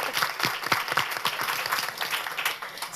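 An audience at a women's business and leadership panel claps, a full round of applause with some louder individual claps standing out, steady throughout.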